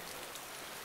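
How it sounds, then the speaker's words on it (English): Steady rain falls in the survival game DayZ, a dense even hiss of drops with no pauses, no voices. "No, I think it's still raining."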